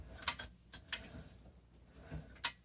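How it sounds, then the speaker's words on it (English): A 1952 Smith Corona Sterling manual typewriter gives two bright, close bell dings about two seconds apart, with faint mechanical clicks and handling noise between them. "That's got a really cute bell."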